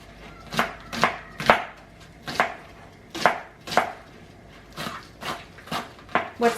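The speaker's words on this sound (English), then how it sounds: "I've got a cucumber to chop and some green onions, so I'm going to get those diced up real quick." A knife chops cucumber and green onions on a board in a home kitchen: about a dozen crisp, distinct thuds in a loose, quick rhythm, close and clear with no talking.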